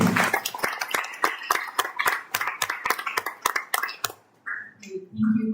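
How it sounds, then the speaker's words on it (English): Audience at a public university debate claps for the debating cabinet, a burst of sharp, closely spaced hand claps that thins out and stops, followed by a few faint background sounds. "Please give a round of applause for our cabinet."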